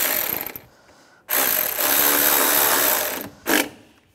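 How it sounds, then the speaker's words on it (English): Screws being driven and tightened on the engine of a 2004-2010 BMW X3 during a VVT solenoid replacement, giving a loud, steady whirring buzz of a powered driver in two sustained runs, then a short final burst, with no talking. "take these screws, get these started, and tighten them down"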